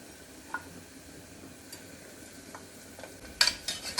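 Sliced onions with ginger garlic paste fry quietly in a cooker for chicken biryani, with a soft steady sizzle and occasional spoon scrapes that grow busier near the end.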